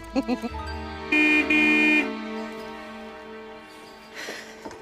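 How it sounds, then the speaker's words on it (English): A car horn blares in two long, loud honks near the start, with harmonic tones holding steady; a fainter horn-like tone returns near the end. "you can honk the horn all you like, but it's giving her a migraine"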